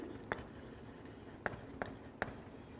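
Pen strokes drawing a table by hand, with four short distinct scratchy taps of writing spread unevenly over a quiet room background.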